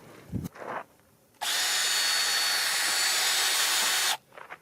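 A cordless drill whirs in one sustained high-pitched burst of about three seconds, close up, with brief quiet handling sounds before and after.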